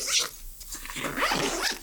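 Zippers on the side compartment of a WANDRD 45L Transit backpack being pulled open, a close, scratchy rasp at the start and another longer drag near the end, with no talking.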